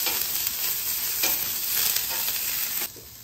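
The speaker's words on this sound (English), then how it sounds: "Just about working the onions around, getting used to the griddle" Onions sizzle steadily on a seasoned griddle insert set into a Weber Genesis gas grill, a continuous close, bright frying hiss with faint stirring scrapes throughout, easing slightly near the end.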